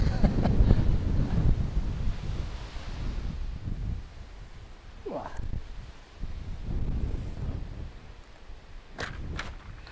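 Strong wind gusts buffet the microphone at an outdoor lakeside, a loud low roar that rises and falls, with a brief voice and a couple of sharp clicks.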